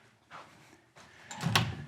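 A closet door with a sticky, binding ball catch is opened and closed in a house under inspection, giving a couple of soft knocks and then a sharper, louder latching clunk near the end, close by and with no talk.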